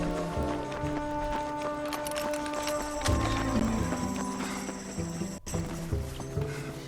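Horse hooves clip-clop steadily through a video game scene, a continuous rhythmic trotting mixed with in-game ambience and music-like tones.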